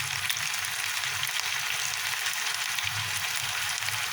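Chapli kebabs fry in hot oil in a frying pan, giving a steady, dense sizzle that holds at an even level throughout with no talk.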